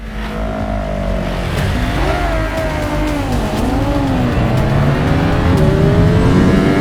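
A loud, close Honda CBR1000RR-R SP sport motorcycle engine revs hard, its pitch climbing and wavering as it pulls away from a standing start at full throttle, roaring continuously.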